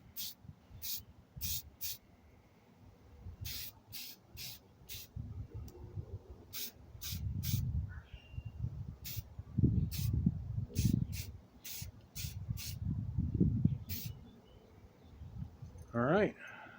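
Short bursts of spray primer hissing onto a Garland No. 3 split face hammer, repeated quick sprays with someone talking at low volume underneath.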